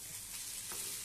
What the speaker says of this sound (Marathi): त्यासाठी मी पटापट कांदा भाजून घेते